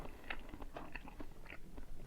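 Close, soft chewing and biting of a braised egg from jangjorim, moist mouth sounds with a few light crunchy clicks over a low background hum.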